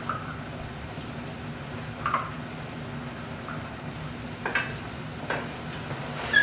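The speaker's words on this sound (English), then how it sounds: "our red wine is starting to get hot over here, so we're going to start slowly adding some of this butter" Butter going into a hot red wine reduction in a pan gives a low, quiet sizzle with a few soft bubbling pops and stirring scrapes, heard close with no voices.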